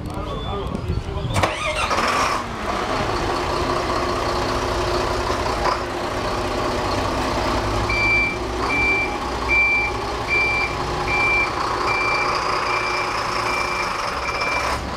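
A stuck truck being dragged off a railway line by company workers, engine running loudly and steadily with a repeating reversing beeper partway through, voices talking over the heavy machinery.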